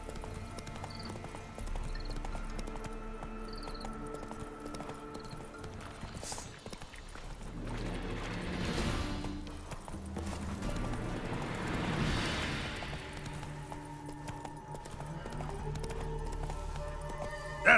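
Roach the horse gallops in The Witcher 3, a steady rhythmic clip-clop of hooves running continuously at close range, with occasional swells of ambient game sound.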